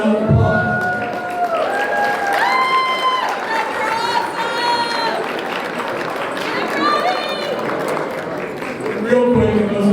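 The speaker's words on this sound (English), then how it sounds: "Please give them a round of applause." An audience at a community child care pitch presentation event claps and cheers in a sustained round of applause, with crowd noise and tonal music running underneath.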